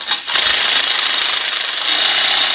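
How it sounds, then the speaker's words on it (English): An impact driver hammers continuously at close range while assembling a wooden stair frame, a loud, rapid buzzing rattle that starts abruptly and runs without pause. "You hear that last little hammer? That's when you know it's done."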